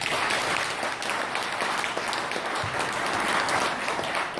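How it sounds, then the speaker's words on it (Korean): A symposium crowd claps together in a full, continuous burst of applause that stays loud and even for several seconds, with no talking on top. "우리 다같이 박수 한번 쳐주십시오"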